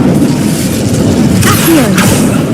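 The Incendio fire spell goes off in Hogwarts Legacy as a loud magical burst with a whooshing flare, followed by a second sharp flash of sound, over busy game ambience with a brief voice.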